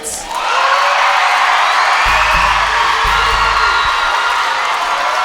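A loud, sustained burst of children's cheering and whooping for St James the Great school at an evening show, a dense crowd roar that rises quickly and holds steady, with low thumps underneath.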